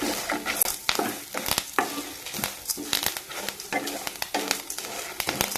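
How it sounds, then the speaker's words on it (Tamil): Curry leaves fry in hot oil for a ridge gourd curry, crackling and sizzling with irregular sharp pops while being stirred, close and busy throughout. "கருவேப்பிலை நல்லா பச்சை வாசம் போகிற அளவுக்கு நல்லா எண்ணெயிலேயே வறுத்திங்கன்னா நல்லா மணமாக இருக்குங்க"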